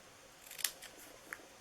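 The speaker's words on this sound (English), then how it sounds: "I just used my little scissors and I cut" Small scissors snip paper to shape the end of a card banner, one sharp close cut followed by a fainter second snip against near silence.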